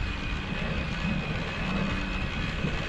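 A motorbike engine drones steadily on a dark street at night in Japan, a loud, continuous broadband rumble with no pauses and no voices.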